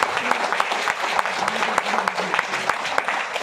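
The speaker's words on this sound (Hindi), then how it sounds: "आदरणीय डी सर के लिए कोई जोरदार ताली होना चाहिए।" Loud, dense applause from a seminar audience in Faridabad, sharp claps crowding together steadily through the whole stretch, with a voice faintly present underneath.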